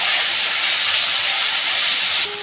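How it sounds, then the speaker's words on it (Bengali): Ginger and garlic paste frying in a pan, a loud steady hiss of sizzling oil held close for a couple of seconds, then dropping slightly at the end. "আমি এটা কাঁচা গন্ধটা না বেরিয়ে যাওয়া অবধি আমি এটাকে ভালো করে ভেজে নিচ্ছি"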